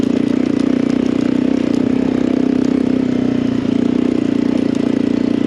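A motorcycle engine running steadily on a mountain loop ride in the Gunnison Valley, a loud, close, even drone with a constant throb and no talk over it.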